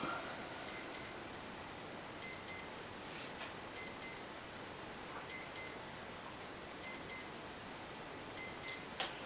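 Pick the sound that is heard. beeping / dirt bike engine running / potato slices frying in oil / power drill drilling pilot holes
beeping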